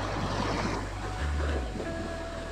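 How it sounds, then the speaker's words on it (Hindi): Surf rushes and churns nearby on Kovalam Beach, Kerala, a loud steady wash of breaking water with gusty wind noise rumbling over it. "कोई बहुत तेजी से लहर आ रही है सामने"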